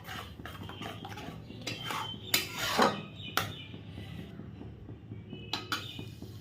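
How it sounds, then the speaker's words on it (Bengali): Spice paste of fennel, salt and turmeric stirred and fried in a pan, with intermittent clinks and scrapes of a utensil against the metal over a quiet sizzle. "মশলাটা আস্তে আস্তে বেশ সুন্দর করে কষিয়ে নিচ্ছি"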